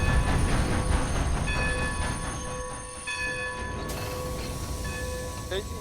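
A ghost train in Red Dead Redemption 2 Online rumbles steadily with rolling rail noise and thin, sustained whistle-like tones layered over it, continuous and fairly close for the whole stretch.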